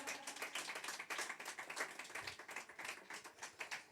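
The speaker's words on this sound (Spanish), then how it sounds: "Dale un fuerte aplauso al que merece la gloria, el honor y la alabanza" A church congregation claps together in an even, rapid stream of handclaps, distant and fairly quiet, sustained throughout without talk over it.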